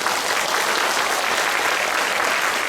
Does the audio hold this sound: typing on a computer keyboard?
no